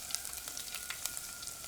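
Ginger frying in hot oil with mustard seeds and fenugreek for a green chili pickle, giving a steady, moderately loud broadband sizzle with small crackling pops throughout, no voices.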